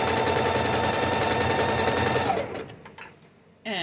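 Home sewing machine stitching fabric at a quick pace: a loud, steady mechanical whir and rapid needle chatter close by, cutting off near the end to near silence before a brief rustle.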